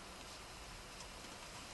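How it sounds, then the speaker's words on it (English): Rain falls in a steady, faint, even hiss of drops, unbroken for the whole short stretch. "okay, it's raining."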